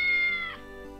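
A cat meows in a video game set in a shop, a single drawn-out tonal call that opens loud and tapers off, with game music tones underneath.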